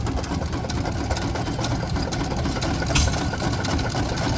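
A Desjardins hit-and-miss engine running at a flywheel show, a steady close mechanical chugging and clatter with a dense, even rhythm throughout and no speech.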